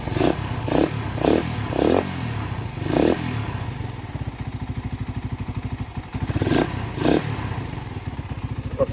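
Suzuki Raider 150 motorcycle engine fitted with new cams, running close by with a rapid clattering idle, broken by several sharp throttle blips.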